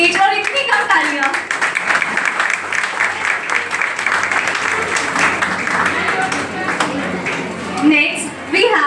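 A crowd applauding at a school ceremony honouring top students, dense continuous clapping from many hands throughout, fairly loud and close, with a brief swell near the end.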